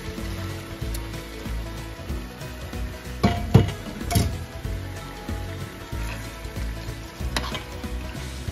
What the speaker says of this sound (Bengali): এখন আমি দিব চিংড়ি মাছগুলো।